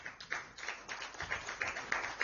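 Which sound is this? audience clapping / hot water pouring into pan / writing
audience clapping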